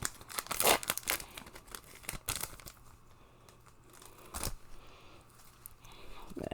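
A Lost Caverns of Ixalan Magic card booster pack is torn open by its rip tab, with close crinkling foil wrapper and sharp tearing bursts, then softer rustling.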